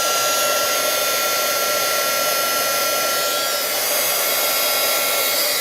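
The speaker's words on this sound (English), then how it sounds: "Gotta wait a minute for my really inexpensive Doris heat gun to heat up." A cheap heat gun runs steadily as it warms up, giving a constant loud whooshing blower hum with a high whine and no pauses, close to the microphone and heard alone.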